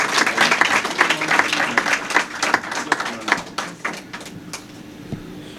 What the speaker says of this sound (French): je vous demande vraiment de l'applaudir